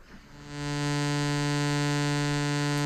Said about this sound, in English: what you're hearing there is just a saw wave from this one module,